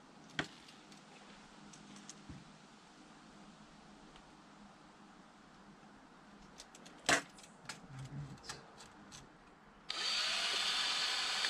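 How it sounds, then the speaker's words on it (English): Quiet clicks and knocks of handling tools, then a power drill starts up suddenly and whirs loudly and steadily, drilling through a Disney ear and bag holder from the back, through the final stretch. "I will drill through from the back."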